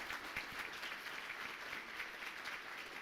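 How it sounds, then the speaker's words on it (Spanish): Applause from the audience at an international education seminar, a dense, even patter of many hands that continues steadily throughout and sounds fairly faint. "darles un aplauso a estos invitados y a ustedes"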